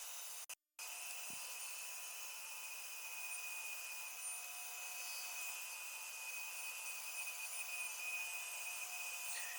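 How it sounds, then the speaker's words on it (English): A bandsaw cuts pallet wood pieces taped together, giving a faint, steady whining drone throughout after a brief knock near the start. "If only I could cut this fast normally on the bandsaw."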